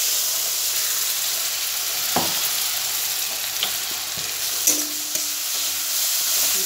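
Cumin powder and ginger paste fry in hot oil with a steady sizzling hiss, close by, broken by a few clinks and scrapes of stirring.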